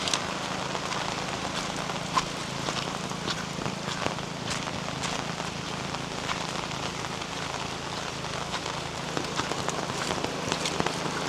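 Rain falls steadily on a rice paddy field as a dense, even hiss of drops, with scattered louder patters.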